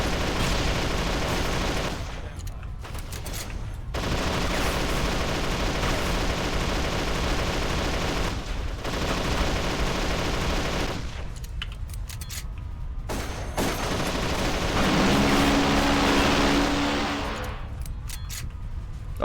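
Heavy enemy gunfire in Darkest of Days, dense and loud sustained volleys of shots with several brief pauses, little else heard between the bursts.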